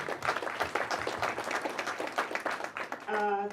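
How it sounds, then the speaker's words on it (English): An audience claps for the vice-chancellor at the launch of an innovation pipeline programme, a dense, steady burst of many hands filling the room before tailing off, and a voice begins speaking near the end. "Can we give a warm clap to our VC?"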